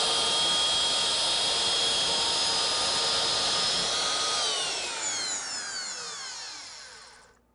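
Jig cutter spinning down and cutting into a wooden clamping strip, a loud steady high-pitched whine that then spins down and fades out, close and without talk.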